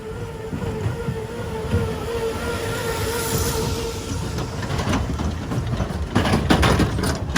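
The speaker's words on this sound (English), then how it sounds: "We've got one more tram car heading our way." A boardwalk tram car rolling past at night on the Wildwood boardwalk, a rumbling motor and wheel noise under a sustained tonal whine, building slightly louder as it nears amid crowd ambience.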